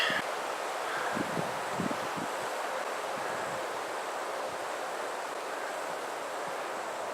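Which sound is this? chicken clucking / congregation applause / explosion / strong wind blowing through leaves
strong wind blowing through leaves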